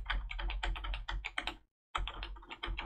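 Brisk typing on a Saga 1 Emperor typewriter-style keyboard fitted to a Sinclair ZX Spectrum: close, rapid clusters of key clacks, a short pause, then another quick burst.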